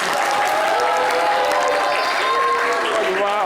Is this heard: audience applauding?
yes